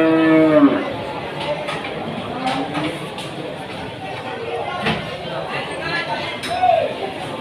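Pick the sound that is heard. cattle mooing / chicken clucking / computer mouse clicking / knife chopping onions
cattle mooing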